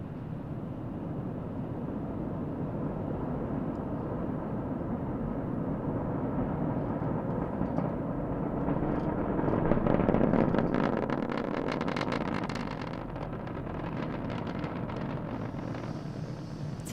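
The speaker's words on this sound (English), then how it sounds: "Falcon 9 has successfully lifted off from Launch Complex 39A at Kennedy Space Center" SpaceX Falcon 9 rocket lifting off from Launch Complex 39A at Kennedy Space Center on a Starlink launch: a distant, sustained deep roar, rising to a rumbling crackle midway and then holding steady.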